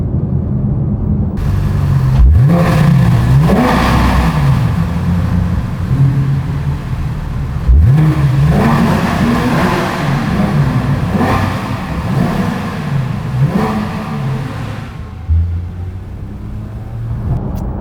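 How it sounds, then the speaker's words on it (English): Car engines rev up and fade repeatedly in a road tunnel in the Smoky Mountains, loud and echoing, with a steady rumbling roar underneath. "see if we can pick up some engine revs going through"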